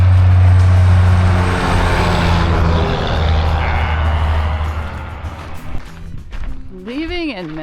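Heavy trucks rumble past on a town road, a loud low roar up close that slowly recedes, followed by quieter traffic noise while people talk nearby.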